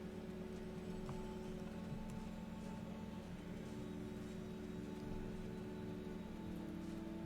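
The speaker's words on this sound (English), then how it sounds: "Oh, it's like a happy rain. It's like a sunshine rain." Rain falling in the video game The First Tree, a soft steady patter and hiss that holds evenly throughout, faint over a constant low hum.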